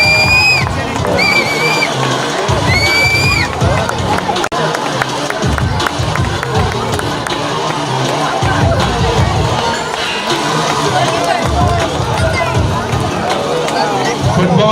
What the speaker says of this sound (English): Can we have a big round of applause for Mangal?